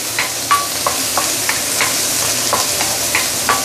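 Prawn shells stir-fried in very hot oil in a wok, a steady close sizzle broken by repeated short scraping clicks of a spatula against the metal, about ten strokes spread evenly through.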